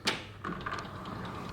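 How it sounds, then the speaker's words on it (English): A hotel suite bathroom door at The Chedi Andermatt, a Swiss luxury hotel, swings shut with a sharp near latch click, then a softer thud and a brief rattle, alone in a quiet room. "This door does close,"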